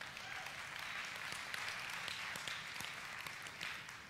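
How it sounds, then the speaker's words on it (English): A church congregation claps through a round of applause at a Sunday service: steady, dense hand clapping that stays fairly quiet and unbroken for the whole stretch, with no voices standing out. "now give him a round of applause"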